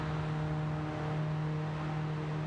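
Racing cars at an Alfa Romeo club race, their engines holding a steady loud drone with a strong low tone throughout, distant and continuous with no voices.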